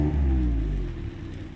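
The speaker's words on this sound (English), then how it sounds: "to make that nice throaty sound when you start it up" Mazda MX-5 1.5 SKYACTIV-G starting up, a deep throaty exhaust rumble that is loud at first and then settles to a lower idle, close by, with no talking.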